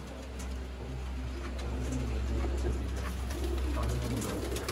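Sialkoti golden pigeons cooing steadily over a low, constant hum, with soft repeated coos close by and no talk.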